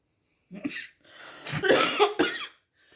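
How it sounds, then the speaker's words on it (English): A short fit of close coughing: one small cough, then a harsher, longer burst of hacking coughs. "now this coughing is, I'm sure, spiritual"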